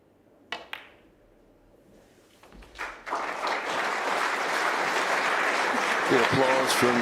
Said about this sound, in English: The applause from this knowledgeable Crucible audience